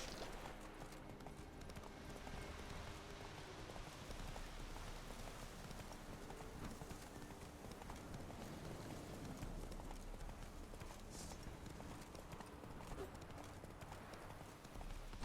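Roach, the horse in The Witcher 3 video game, gallops with a steady, rapid clip-clop of hooves throughout, close and continuous, over a faint game ambience.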